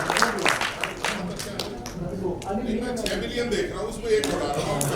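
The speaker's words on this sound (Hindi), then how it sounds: "एक बार जोरदार तालियां देंगे" Audience claps at a Hindi poetry recital, with loose, uneven clapping rising and falling while a speaker's voice carries over it.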